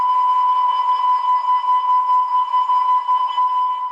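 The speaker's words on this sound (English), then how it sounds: "The hydrocarbon alarm is" An offshore platform hydrocarbon gas alarm sounds continuously, a steady electronic buzzing tone with a slight warble, loud and alone for the full duration.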